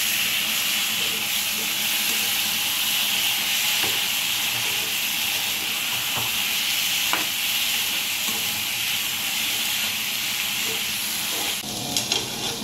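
Mutton kosha sautéing in a covered pan, a steady broadband sizzle holding loud and even throughout, with faint occasional clicks and a few clatters near the end as the lid is lifted.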